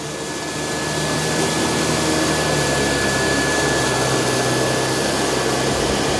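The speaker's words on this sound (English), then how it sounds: "ramping up the suction whenever it can sense more dirt on the carpet" A Dyson 360 Vis Nav robot vacuum runs on carpet with a loud, steady whooshing motor drone and a thin high whine. The suction swells slightly early on, then stays constant, with no voices.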